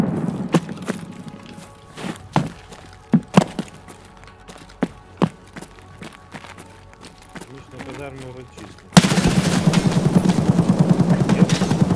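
Gunfire in Escape from Tarkov: sharp, isolated gunshots crack at irregular intervals over a quiet background, then a dense burst of rapid fire and noise takes over near the end.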